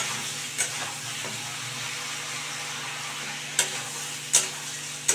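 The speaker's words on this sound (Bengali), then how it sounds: "আবার কিন্তু আমি ভালো করে কষিয়ে নিচ্ছি" Spice paste for a prawn curry with papaya, potato and pumpkin being sautéed in oil, with a steady soft sizzle and a few sharp spatula scrapes against the pan at scattered moments.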